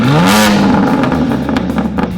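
BMW G87 M2 with its S58 engine, fitted with a downpipe exhaust and tune, revs up loudly close by, rising then holding a raspy roar before easing off, with a few crackles.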